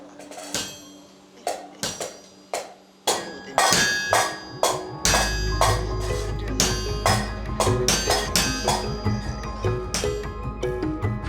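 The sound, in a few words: blacksmith hammering copper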